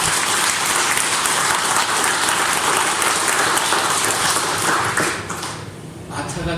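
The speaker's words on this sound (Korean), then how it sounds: "박수 한번 해주시기 바랍니다" A church congregation at a Sunday worship service breaks into loud, sustained applause that fills the room, then thins out and fades in the last second or two.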